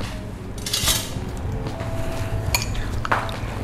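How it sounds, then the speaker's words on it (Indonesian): Metal cutlery clinking and scraping against dishes as a spoon is fetched while making palm-sugar milk cendol pudding, a few sharp close clinks over a steady background, no speech. "saya ambil sendok dulu ya."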